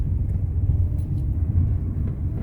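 Mitsubishi Xpander with automatic gearbox in L gear, engine braking down a steep hill: a steady low engine rumble with faint road noise, even and continuous from start to end, with no voices.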